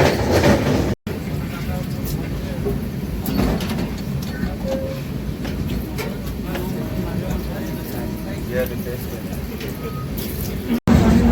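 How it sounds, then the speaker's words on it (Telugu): From inside a passenger train, the Prasanthi Express, rolling onto the Godavari river bridge: a deep steady rumble with rhythmic wheel clatter and metallic rattles throughout, fairly loud, with voices murmuring in the background. "మన ట్రైన్ అయితే గోదావరి బ్రిడ్జ్ మీదకి అయితే వచ్చింది గోదావరి రివర్ మీద నుంచి వెళ్తుంది"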